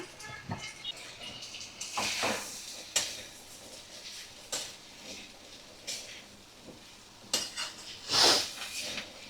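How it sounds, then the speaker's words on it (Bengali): Boiled chickpeas tipped into a pan of spiced chicken whose masala has released its oil, giving scattered metallic clinks and scrapes of a spoon against the pan, with quiet gaps between them and a brighter knock near the end. "এবার দেখো, আমি সিদ্ধ করা কাবলি ছোলাগুলো দিয়ে দিলাম।"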